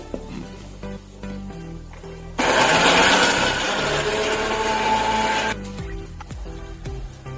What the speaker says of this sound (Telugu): ఆనియన్ వేయించుకున్నవి మసాలాలన్నీ మిక్సీకి పట్టుకోవాలి.